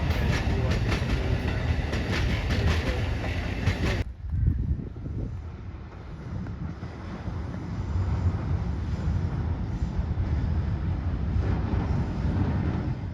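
A train passes on the Northeast Corridor with a loud, close rush and rattle of railcars. It then drops away abruptly to a quieter, steadier rumble.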